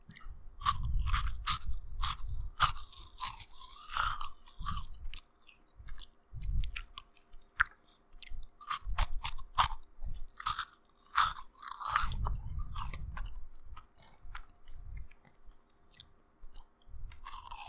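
Crunchy cheese puffs being eaten close to the microphone, with loud repeated crisp bites and crackling chews in irregular bursts and short quiet pauses between mouthfuls.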